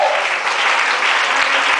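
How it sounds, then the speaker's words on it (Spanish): A church congregation bursts into loud, dense applause during a sermon, a steady sustained wash of many hands clapping close by for the whole stretch, with no one speaking over it. "¡Den un aplauso fuerte al que vive!"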